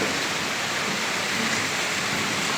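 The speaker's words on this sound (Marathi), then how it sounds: "जोरात पाऊस पण चालू आहे" Heavy rain pouring down in a steady, dense hiss, loud and continuous without any break or voices.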